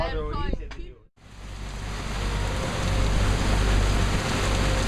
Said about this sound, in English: I awoke at 7 to a sudden morning rain squall.